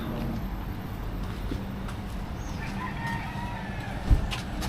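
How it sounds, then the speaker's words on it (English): Chickens clucking and crowing somewhere near a busy Caribbean anchorage, faint and scattered over a steady background hum, with one short louder knock near the end. "Definitely loads of chickens around here."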